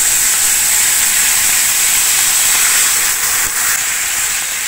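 Sweet wine poured into a hot pan with oil and generous spoonfuls of Dijon mustard, giving a loud, steady broadband sizzle and hiss that holds evenly throughout.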